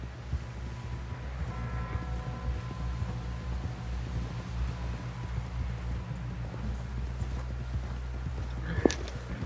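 Horse hooves clip-clopping at a riding pace in a western-style video game, a steady rhythm of close thuds over low wind and rumble, with a brief sharp knock near the end.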